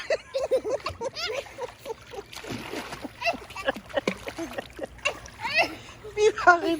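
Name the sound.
child splashing while diving under water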